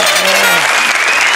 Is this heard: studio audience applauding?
yes